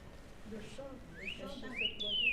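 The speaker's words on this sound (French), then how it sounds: "Le chant de cet oiseau. C'est le cardinal. Oui, c'est le cardinal rouge." Northern cardinal singing, a few clear rising whistled slurs standing out over a person speaking nearby.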